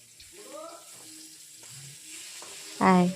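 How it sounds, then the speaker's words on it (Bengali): Three fish pieces shallow-fry in a moderate amount of oil, a soft steady sizzle broken by brief tonal clatters and a louder ringing burst near the end. "মোটামুটি তেলে ভেজে নিচ্ছি, কারণ হচ্ছে অনেকটা তেল দিয়ে দিলে আবার 3 পিস মাছ তো কী হবে।"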